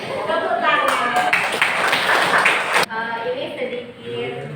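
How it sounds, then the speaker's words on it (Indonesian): A classroom group clapping their hands during a lesson: a short burst of mixed applause in the middle, blended with lively children's voices and a teacher talking. "Tepuk tangan."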